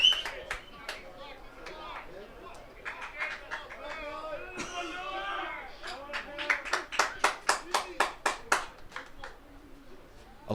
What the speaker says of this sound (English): Claps coming from down below me, not sure for what.